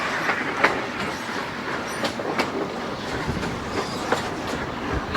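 Narrow gauge scenic train on St Kitts, hauled by a hydraulic diesel engine on 30-inch track, rumbling steadily with rhythmic clickety-clack of wheels and occasional sharp clicks, heard from onboard with no talking.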